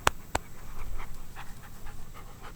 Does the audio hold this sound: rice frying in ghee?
no